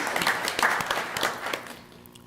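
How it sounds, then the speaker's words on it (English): Applause from an audience at a Douglas County board of commissioners meeting, honoring local farmers: a brief burst of many hands clapping at moderate loudness that gradually thins and fades out over about two seconds. "join me with a round of applause for all the hard work that our farmers do here in the Douglas County"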